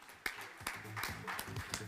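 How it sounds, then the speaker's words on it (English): A gathering at a conference welcomes its guest with applause, scattered claps rising over a steady room murmur, fairly quiet and distant, with brief voices mixed in. "with a generous round of applause, let's welcome Dr. P Thiaga Rajan"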